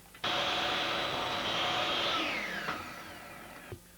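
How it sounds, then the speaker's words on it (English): A standard belt sander grinds the edges of a wooden pool table cushion, a loud steady whine that starts abruptly, runs evenly, then dips in pitch as the tool winds down near the end. "What I've got here is a standard belt sander"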